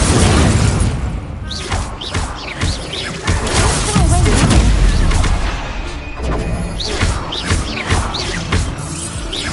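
Fire and blasting spells are cast in a Harry Potter video game duel, producing repeated booming bursts, crashes and whooshes in quick succession, loud and close, with brief voices between them.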